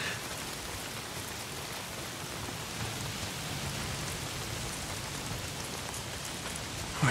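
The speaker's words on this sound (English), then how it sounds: "If it's not the freaks, it's the goddamn rain." Steady, dense rainfall in the video game Days Gone hisses evenly throughout, a constant wash of drops with a faint low rumble beneath and no voices.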